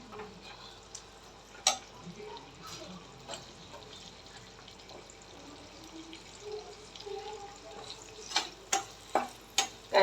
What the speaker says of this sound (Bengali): দেখেন, আমি এখানে দিয়ে দিলাম তেলের ভিতরে পেঁয়াজ কুচি। আমি তেলের পরিমাণটা একটু বেশি করেই দিচ্ছি। এই এখন আমি পেঁয়াজটা ভেজে নেব।